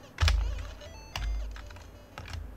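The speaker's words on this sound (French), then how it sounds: "je n'ai pas branché de manette, je joue via le clavier" Keys on a computer keyboard are tapped in three separate clusters of clicks while playing a Game Boy game through a GB Operator, close up, with no talk.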